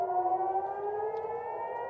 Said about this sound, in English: You can obviously hear the sirens.